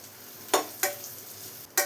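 Chili powder and spices sauté in a pan for a chickpea curry, with a soft continuous sizzle under three sharp, quick scrapes of a spoon against the pan.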